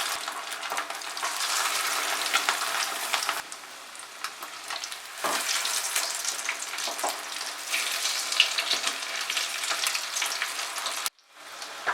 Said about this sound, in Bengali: আঁচটাকে বাড়িয়ে আমি মাছগুলোকে ভেজে নিচ্ছি।